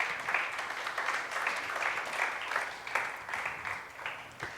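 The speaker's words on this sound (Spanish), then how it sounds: "Dele un aplauso al Señor" Congregation clapping during a Spanish-language church service, a rhythmic wash of many hands with a faint pulsing beat, steady and moderately soft as though heard from some distance in the hall.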